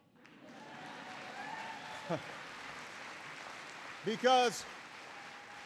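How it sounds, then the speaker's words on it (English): Sustained applause from an audience at a speech by a politician on gas prices, a steady broad wash of clapping lasting several seconds, with a brief spoken word from the speaker near the end. "Yeah, that's worth applauding."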